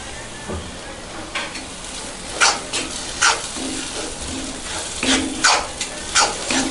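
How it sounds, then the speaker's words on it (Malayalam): Chicken roast masala with curry leaves being sautéed in a pan, a steady low sizzle broken by several scraping stirs of the spoon, close and moderately loud, with no talking. "ഇനി നമുക്കതിലേക്ക് ആവശ്യത്തിന് കറിവേപ്പില ഇടാം എന്നിട്ട് നന്നായി ഒന്നുകൂടെ വഴറ്റി കൊടുക്കാം"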